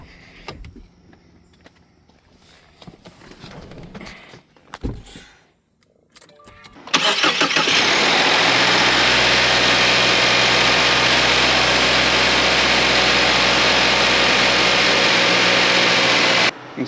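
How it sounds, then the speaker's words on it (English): A Subaru with an FA24 engine is started after an oil change: quiet clicks and handling noises come first, then the engine catches and settles into a loud, steady idle that runs on close by. "we should be able to go ahead and try to start the car now"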